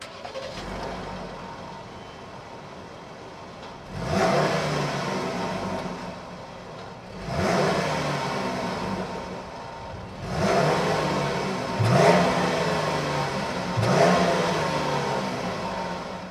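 A 2025 Jeep Grand Cherokee Limited's 3.6-liter Pentastar naturally aspirated V6 is revved in four distinct bursts, each rising sharply then settling back to a quiet idle, heard fairly close with no voices.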